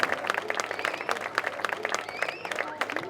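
An audience applauds at a race finish ceremony, brisk scattered clapping that runs throughout while an announcer speaks over it.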